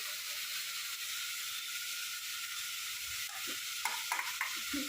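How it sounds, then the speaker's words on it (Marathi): Spices for masale bhat dropped into hot oil, giving a steady bright sizzle and hiss that fills the clip, with a few soft stirring knocks near the end. "ती आता सर्व त्या तेलामध्ये टाकणार आहे हे सर्व परत आहे तेलामध्ये"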